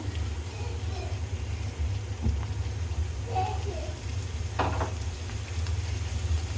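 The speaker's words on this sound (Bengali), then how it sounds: "এটার মধ্যে দিয়ে দিলাম পেঁয়াজ পেঁয়াজ দিয়ে বাগার দিয়ে দেব" Onions sizzle and fry steadily in a small amount of hot oil for beef nihari, a constant close hiss with occasional stirring scrapes, while a person speaks over it.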